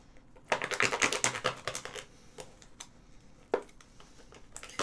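A knife cuts through ham close by, making rapid, scratchy sawing strokes in an uneven burst that thins out into a few isolated scrapes.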